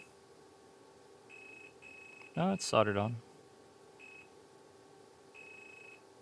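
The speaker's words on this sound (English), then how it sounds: "Try the second one, second beep, third beep, and fourth beep." Repeated short, high electronic beeps from a circuit board under repair with a continuity tester, a few separate tones spread through the clip, with a person speaking briefly in the middle.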